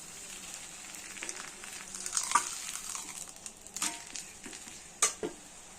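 Okra (vendakkai) sabji frying in a pan gives a soft, steady sizzle, with a few scraping stirs and clinks of the spatula against the pan, fairly quiet throughout.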